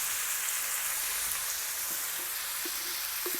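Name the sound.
stirring vegetables with turmeric cooking in a covered pan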